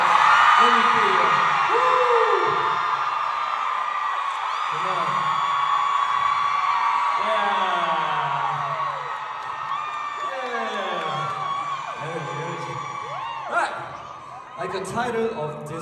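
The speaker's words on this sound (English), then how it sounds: "scream as much as you're excited right now!" A concert audience in Los Angeles screams, whoops and cheers loudly and continuously, with excited shouts and laughter rising and falling throughout and a few bursts near the end.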